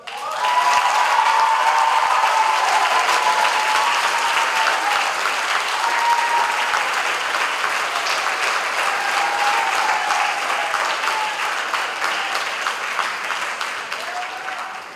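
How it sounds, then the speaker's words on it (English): An audience at a Catholic school graduation ceremony applauds, a steady, dense wash of clapping that holds for the whole stretch and tapers slightly near the end. "Let's give a big round of applause."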